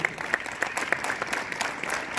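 Students at a school assembly clapping their hands, a crowd applauding with some sharp individual claps standing out, loud and continuous, with a voice faintly underneath.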